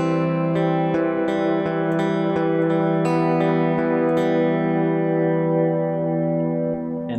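Electric lead guitar plays a measure from a song with distortion and reverb, a run of picked notes ringing into each other in a steady pattern, loud and sustained, with no talking.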